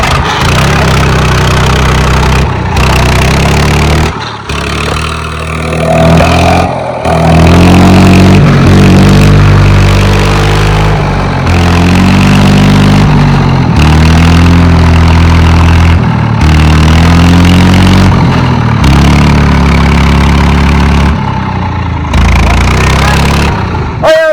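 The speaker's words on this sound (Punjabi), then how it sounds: "ਟਰਾਲੀ ਭਰ ਗਈ ਤੇ ਟਰੈਕਟਰ ਫਸ ਗਿਆ" A tractor stuck with a fully loaded trolley labours loudly up close, its engine droning and revving in heavy, rising surges, broken by several brief abrupt dropouts.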